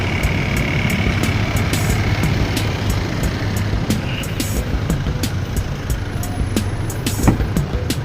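A Mitsubishi Pajero 4M41 diesel engine with a converted injection pump idles steadily nearby with a constant low rumble and a faint rhythmic ticking running through it.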